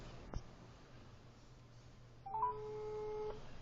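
A telephone call rings out over the line: a single steady electronic ring tone of about a second, preceded by a faint click and heard quietly against low background hiss.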